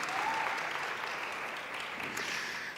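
Audience applause at a women's economic empowerment conference, a steady dense clapping from a large crowd that holds evenly for about three seconds, with a faint whistle early on.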